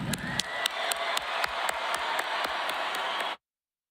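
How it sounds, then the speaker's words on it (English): Crowd at Davenport West High School's 2024 commencement clapping along to a steady rhythmic beat, sharp regular claps roughly every quarter second over a general crowd roar, cutting off abruptly near the end. "One big round of applause."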